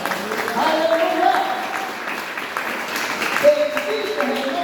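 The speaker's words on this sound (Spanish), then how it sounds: "Denle un aplauso al Señor." A church congregation claps in praise, a moderate, uneven patter of hands beneath held musical tones and a few voices, lasting a few seconds.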